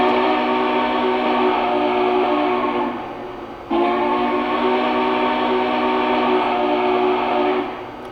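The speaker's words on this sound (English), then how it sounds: "Here's the whistle." A Lionel Northerner model train sounds its whistle, a loud close sustained chord blown in two long blasts with a brief gap between them, no talking.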